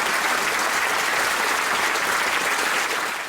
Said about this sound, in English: Most unusual too was the roar of applause.